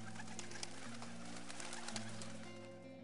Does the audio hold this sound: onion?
no